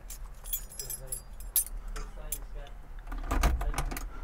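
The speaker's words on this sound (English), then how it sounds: "apparently we got three keys for this thing" Keys of a barn-find VW Rabbit pickup, a bunch including Ford and house keys, jangle and clink in bursts close by, mixed with speech.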